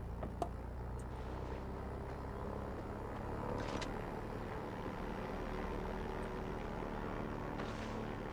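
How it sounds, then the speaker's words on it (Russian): Airplane taking off in the video game Far Cry 4, a steady low engine drone with propeller-like hum, moderately loud and continuous with no voices. "На том взлетающем самолете."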